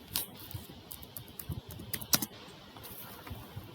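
Typing on a computer keyboard: quick, light, uneven keystrokes tap close by, with a few louder clacks standing out against a soft background hiss.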